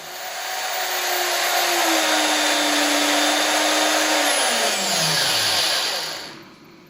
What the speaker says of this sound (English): you could hold in the drill the front of the body case here and simply give it a spin